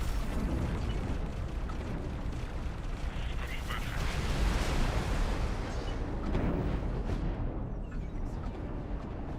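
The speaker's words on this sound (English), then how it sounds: "Explosion imminent." Explosion in the space game X4 Foundations, a dense, loud roaring rumble that swells and sustains for several seconds before slowly thinning out, with no talk over it.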